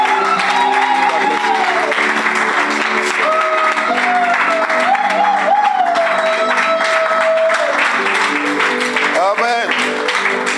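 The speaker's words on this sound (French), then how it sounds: "Est-ce qu'on peut acclamer le Seigneur pour son serviteur?" Church congregation applauding and cheering, a steady dense wash of clapping and crowd noise lasting throughout, with sustained tonal music or voices carried beneath it.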